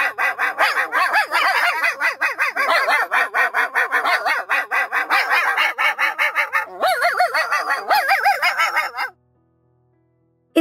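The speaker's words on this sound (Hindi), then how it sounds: "कुछ जंगली कुत्ते उनके ऊपर भौंकने लगते हैं" Wild dogs in an animated story bark loudly and continuously in rapid, overlapping volleys for about nine seconds, then stop abruptly, leaving near silence.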